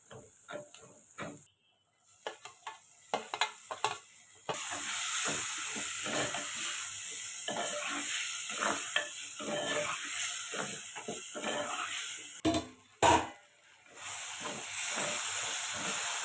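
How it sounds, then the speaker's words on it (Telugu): Ginger paste fries in a pan, first with a few scattered stirring taps, then a loud, steady sizzling hiss lasting most of the clip, broken once by a brief pause. "అల్లం పేస్ట్ పచ్చివాసన పోయే వరకు ఫ్రై చేసుకొని టమాటో వేస్తాము"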